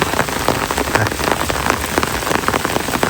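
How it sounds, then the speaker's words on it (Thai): Heavy rain falls steadily and loudly on surfaces during a fishing outing for snakehead fish, a dense continuous patter with no voices. "ฝนตกครับตอนนี้"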